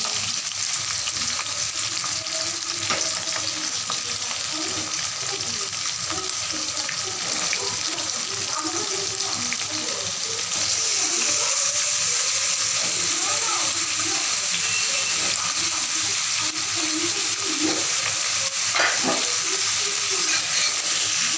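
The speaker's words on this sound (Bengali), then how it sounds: "পেঁপেটা একটু ভাজা হয়ে গেলে, জাস্ট একটু নেড়ে নিই পেঁপেটা" Papaya pieces frying in hot oil in a pan while being stirred, a continuous loud sizzle with occasional scraping and clinks of the spatula, alongside running water from a sink tap.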